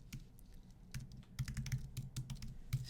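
Keys clatter as personal details are typed into an online school enrollment form on a computer keyboard, a quick, uneven run of close, crisp keystrokes with brief pauses and no talking.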